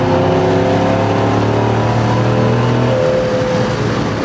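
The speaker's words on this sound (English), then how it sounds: "now we got the windows open and we're gonna give it a little gas here" A 2022 Cadillac Escalade engine rumbles loudly and steadily through a CORSA sport exhaust, with a deep throaty drone that shifts pitch slightly as it revs, heard from inside with windows open.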